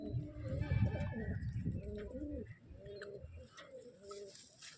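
Domestic Madras pigeons coo near at hand, deep throaty rolling calls repeated several times in a steady sequence, fairly faint, with small rustles between.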